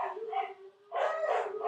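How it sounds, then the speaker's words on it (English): Several pet dogs bark and yip indoors in two short bursts with a brief pause between them, fairly close and moderately loud, with no talk over them. "That's my dogs."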